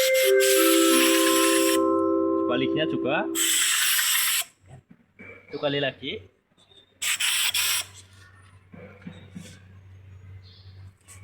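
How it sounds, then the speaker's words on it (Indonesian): Compressed air blasts from a compressor nozzle blowing clean the air filter of a lift, loud broadband hissing bursts that start and stop, with speech between the blasts. "Kita bersih filter udara menggunakan kompresor."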